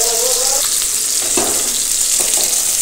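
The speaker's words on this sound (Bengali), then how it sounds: "এবার আমি 2 সাইড খুব সুন্দর করে ভেজে নিয়ে নেব।" Pieces of boal fish fry in hot oil with a loud, continuous close sizzle, broken by a few soft clinks and scrapes from a utensil.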